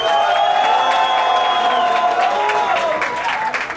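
A TV studio audience applauds and cheers for a contestant, with steady broadband clapping and whoops over a bright musical backing throughout.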